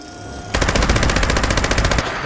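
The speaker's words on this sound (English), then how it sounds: "So you use this in a power armor. Okay, so we'll just fire this away." An automatic weapon fires a rapid, evenly spaced burst in Fallout 76, loud and continuous for about a second and a half before stopping abruptly, with no speech over it.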